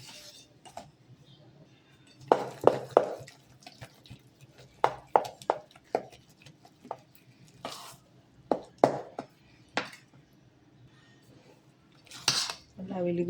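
Semolina being stirred with buttermilk and hot water in a bowl, giving scattered clinks and scrapes of a utensil against the vessel in irregular bursts, close and fairly clear, with some brief talk between them.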